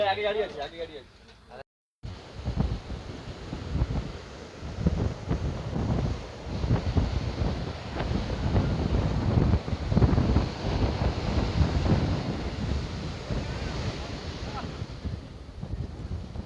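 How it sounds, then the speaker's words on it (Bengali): Rough sea surf at Digha roars continuously in heavy rolling waves crashing near the road, with strong wind buffeting the microphone and a brief voice at the start. "প্রচণ্ড জলের ঢেউ, যা এই একদম রাস্তার কাছাকাছি পাত্রগুলোর মধ্যে এসে আছড়ে পড়ছে"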